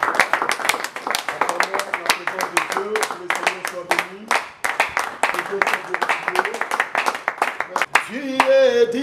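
A congregation claps along at a church worship service, with dense, steady rhythmic clapping throughout and voices singing over it, and a sustained voice rising near the end.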